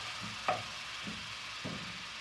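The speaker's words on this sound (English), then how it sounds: "in the same pan I'm adding ginger garlic paste, and saute it" Ginger garlic paste sautés in a pan, a steady soft sizzle with a few light stirring scrapes against the metal.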